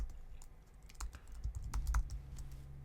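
Keys clatter on a computer keyboard in a short burst of typing, quick irregular taps with a few heavier strokes, close and moderately quiet with no talking.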